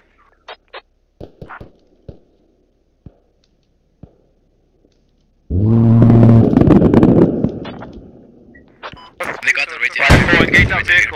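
Gunfire in a Bradley vehicle battle on the Narva map: several sharp, isolated shots and clicks, then a loud sustained roar of firing, with a voice talking over the noise.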